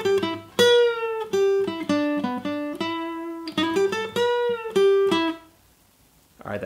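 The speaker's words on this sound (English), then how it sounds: "We're gonna start off breaking down that first part of the intro guitar solo" Acoustic guitar picking the intro solo of a song, a run of clear single notes and short bent phrases, played alone and close, ending in a brief pause before a final note.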